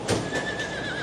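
A horse crossing water gives a loud, close whinny with a rising squeal that trails off across the short span, with a faint thud of hooves underneath.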